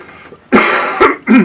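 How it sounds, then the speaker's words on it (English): Three harsh coughs in quick succession, close and loud, with a brief pause between the first and the last two. "I got a cough."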